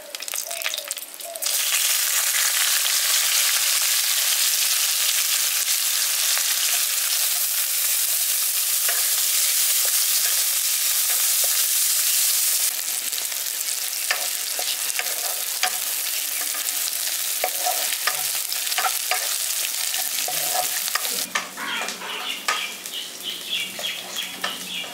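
Sliced onions drop into hot oil with cumin for village-style paneer masala, then fry in a loud, steady, close sizzle while a spoon stirs and scrapes the pan throughout.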